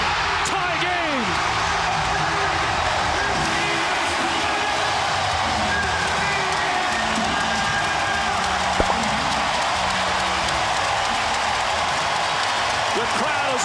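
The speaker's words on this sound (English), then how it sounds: "The crowd has erupted here at the AT&T Center." A packed crowd at the AT&T Center NBA playoff game roars and cheers after a game-tying three-pointer, a dense sustained wall of noise with scattered shouts and a sharp bang near the middle, with a commentator talking over it.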